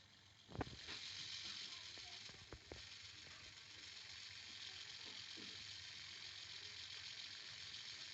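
Motor-driven meshing gears rotating, a faint steady whirring with a few sharp clicks near the start, quiet and close, without talk.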